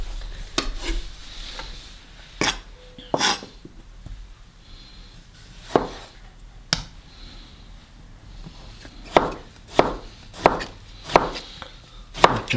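Knife chopping Chinese broccoli on a cutting board for chicken and shrimp fried rice: scattered sharp chops, sparse at first then a quicker run of firm strikes near the end, close and alone with no talk.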